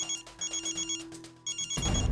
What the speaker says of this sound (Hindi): जेठालाल, फोन मत काटना, शायद एक किडनैपर का फोन है